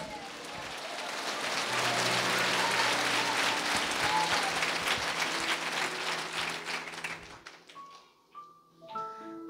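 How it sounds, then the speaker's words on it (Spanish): A church congregation at a Christmas service claps in strong, dense applause for several seconds with a tonal hum underneath, then fades out as a few musical notes sound alone. "Fuerte aplausos, Iglesia de Cristo."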